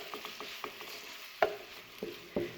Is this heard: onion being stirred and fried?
yes